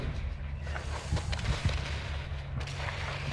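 Gunfire and RPG blasts ring out in the Modern Warfare II video game, with dense bursts of shots and booming impacts over a constant rumbling battle backdrop, loud and continuous.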